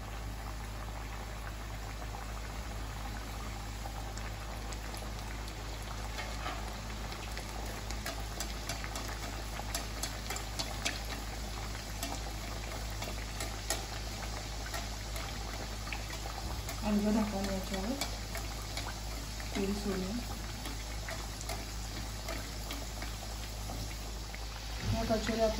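Mung dal kachoris bubble in oil that is not very hot, a faint steady frying hiss under a constant low hum, with someone speaking over it at times.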